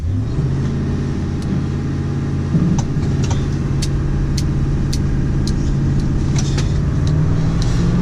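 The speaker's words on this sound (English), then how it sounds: "just wait until we attempt this burnout real quick" A pickup truck engine revs hard during a burnout with the brakes on, holding at a loud, steady drone, pitch climbing slightly, close up with no voices.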